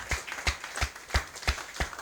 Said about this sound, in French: Can you people clap for Jesus